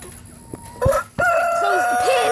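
Chickens in a pen cluck close by, one loud squawk, then a sustained crow-like call with overlapping clucks, fed animal crackers.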